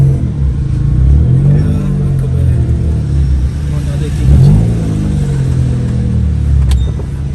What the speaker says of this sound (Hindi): मैं एक मिनट गाड़ी पार्क कर रहा हूँ